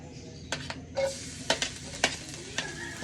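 Garlic and onion sauté in a pan with a soft steady sizzle, broken by several sharp scraping stirs of a utensil against the pan, fairly quiet and close.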